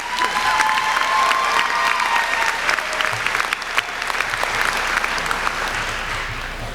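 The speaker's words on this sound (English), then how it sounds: "I was going to stop them from clapping" A commencement audience clapping in a large hall, loud sustained applause with a few scattered cheers, steady throughout and slowly tapering at the end.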